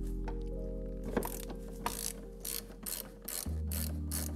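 Ratchet wrench loosening a 16 mm seat-mounting nut inside a BMW E36 M3, a steady stream of close, rapid clicks with a few sharper metallic knocks and brief pauses between strokes.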